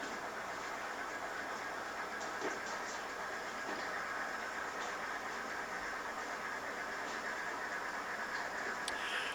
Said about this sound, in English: now he's backing the rest of the cars back